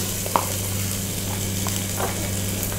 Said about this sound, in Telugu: నెక్స్ట్ ఆయిల్ వేడెక్కిన తర్వాత 1 టేబుల్ స్పూన్ అల్లం వెల్లుల్లి పేస్ట్ యాడ్ చేస్తున్నాను